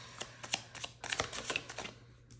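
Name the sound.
tarot cards being shuffled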